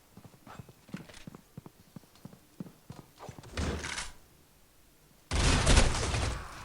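Gunfire in the mobile shooter Critical Ops: a string of sharp, spaced shots, then two louder, denser bursts of fire, close and prominent with no talk over them.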